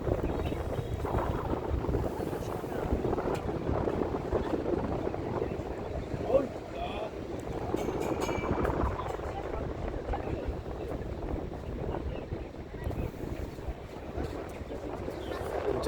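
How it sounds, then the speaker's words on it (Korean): Strong wind buffets a Li River cruise boat near Yangshuo, a continuous, loud, rumbling roar across the whole stretch with no letup. "바람이 얼마나 부는지"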